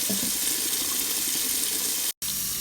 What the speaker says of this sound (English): We're getting ready to wash these potatoes and scrub them down real good with the scrub brush.